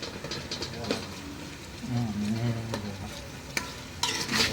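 Spices for tempering sizzle in a hot pan for fish curry while a utensil scrapes and stirs, with a low voice murmuring underneath.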